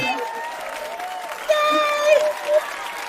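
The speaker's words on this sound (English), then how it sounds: "Look at all the applause you're getting." A studio audience applauds guests arriving on a talk show, the clapping forming a steady wash beneath cheerful voices that greet one another over it.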